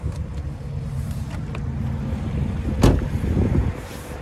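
Continuous roar of highway traffic with vehicles rushing past, a louder whoosh of a passing vehicle near the end, plus some wind buffeting.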